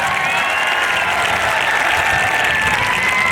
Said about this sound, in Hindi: आप ये तालियां एक बार जो मेरे लिए बजाना चाहे वो डोटासरा जी तक तालियां बजाकर आप उन्हें बता सकते हैं